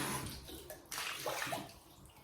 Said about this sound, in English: Make sure that's completely, yep, that's all nicely rinsed out.